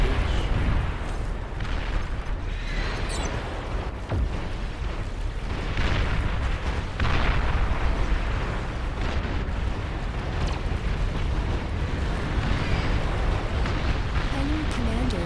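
Strategy game Beyond All Reason battle as the enemy commander is destroyed: a sustained roar of layered explosions and rumbling blasts, loud and dense for the whole stretch, with voices faintly mixed in.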